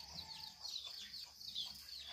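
Chickens cluck and murmur softly in a steady stream, faint and a little distant, with no talking.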